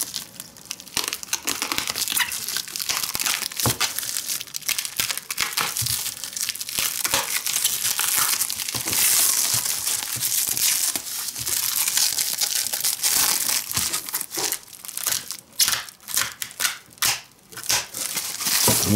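Continuous crinkling and crackling of plastic wrap and tape being pulled and torn from a parcel of coins, with cardboard rustling, busy and close up for the whole stretch.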